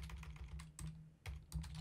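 Rapid keystrokes on a computer keyboard while coding in a game engine editor, a steady run of close, crisp clicks alone with no speech.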